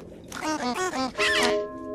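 A short burst of duck-like quacks: several quick nasal honks in a row, close and loud, with a higher squawk near the end, set inside a cut-up comedy edit.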